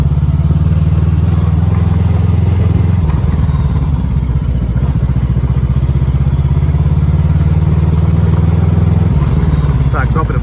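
A Voge 500DS adventure motorcycle rides along a road, its engine giving a steady loud low drone that dips briefly and picks back up, with wind rumble throughout.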